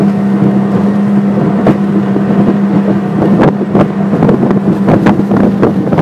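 Evinrude 115 HO G2 outboard motor driving a boat through a turn, a steady close engine drone with wind buffeting the microphone and water rushing alongside.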